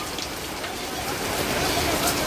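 Heavy rain pours during an outdoor march of thousands of teachers in Maharashtra, a dense, even hiss of downpour filling the scene throughout, with voices faintly present.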